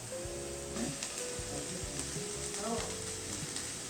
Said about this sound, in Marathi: इथे मी थोडंसं पनीर कुस करून घेतलंय साधारण दीडशे ग्रॅम पनीर आहे ते आपण ह्यामध्ये घालूया